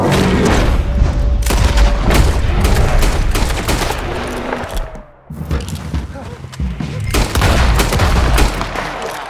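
Gunfire during a hunting trip in Red Dead Redemption on PC, rapid loud shots and booming blasts in bursts with a brief lull midway, while voices shout over the shooting.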